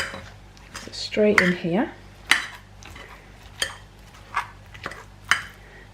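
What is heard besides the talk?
knife slicing butternut squash into chunks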